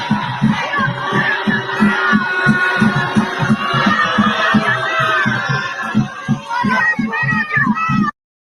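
A protest crowd in Washington, DC, heard as a recording: a dense, steady mass of voices with a strong rhythmic thumping pulse, like chanting or drumming, running evenly through the clip before it cuts off abruptly.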